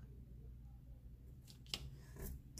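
Scissors slice paper in one clean, smooth cut, a short soft crisp swish near the end over quiet room hum, close and faint.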